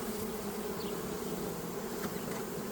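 Bees buzz steadily at a beehive holding plastic frames, a dense continuous hum close by with no talking.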